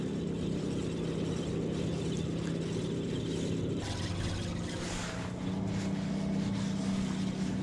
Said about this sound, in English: Speed Racer over here that I'm doing laps around the lake for God knows what reason